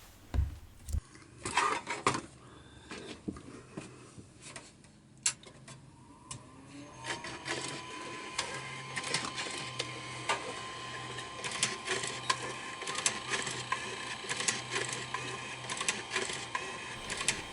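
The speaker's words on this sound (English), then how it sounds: "I think it was basically going through a diagnostic and looking for a disc in each tray" Rapid mechanical chattering and clicking, with whirring and clunks, from a Nakamichi MJ-516 five-disc CD-ROM changer cycling through its trays; steady and growing busier partway through, fairly close and moderately quiet.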